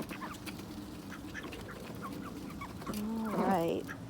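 Two ducks swimming in a backyard swimming pool give a stream of close quacks and clucking calls over steady outdoor background noise, swelling into a louder burst of calls toward the end.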